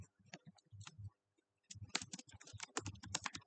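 Keys clack on a computer keyboard in quick, uneven bursts, sparse at first and then faster and denser, close and fairly quiet, with no voices.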